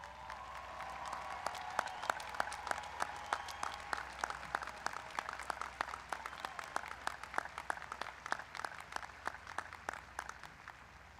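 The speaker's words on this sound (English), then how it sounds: "please stand so we can give you a round of applause" Applause at a high school graduation ceremony as active and retired military members stand, a crowd clapping steadily and fairly distantly in a large hall, sustained for about ten seconds without talk.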